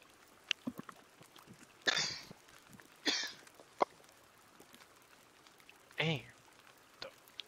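Several short harsh coughs in the Sons of the Forest video game, bursting out separately with pauses between them over a quiet background scattered with small clicks.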